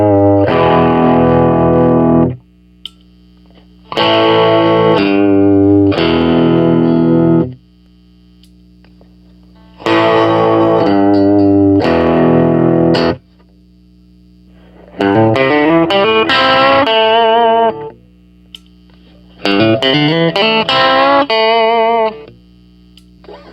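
A First Act M1972 electric guitar rewired for series, coil-tapped and parallel pickup modes plays five bursts of chords and riffs through distortion and effects, each loud phrase separated by short pauses.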